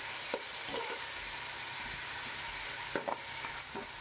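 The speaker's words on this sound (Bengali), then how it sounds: "দেখুন ভালো করে একটু নাড়িয়ে চাড়িয়ে নিচ্ছি।" Tomatoes are stirred in a hot pan for vegetarian bhog khichuri: a steady sizzle of frying runs throughout, broken by a few sharp scraping knocks of the spoon against the pan, close and moderately loud.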